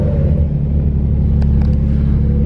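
A car engine idles high and loud right after a cold start, heard close up as a steady deep rumble with a constant drone, with no voices.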